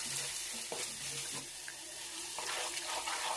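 Water is poured into a cooking pot to rinse it while making shark curry, a hissing, splashing pour with sizzling from the pot, fairly quiet and with no talking.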